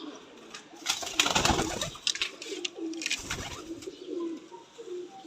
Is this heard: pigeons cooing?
yes